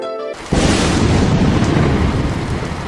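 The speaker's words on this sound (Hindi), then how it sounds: "तभी एक जोरों की गर्जना" A sudden loud thunderclap bursts in and rolls into a dense, steady roar of heavy rain in a storm, following a brief quiet musical tone.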